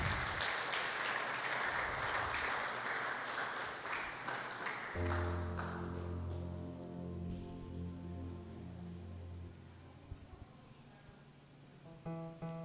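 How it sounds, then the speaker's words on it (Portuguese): Applause and clapping from a church congregation during a service, a dense wash of hands for about five seconds that then gives way to sustained music with keyboard tones, the clapping fading beneath it. "Uma salva de palmas a Jesus"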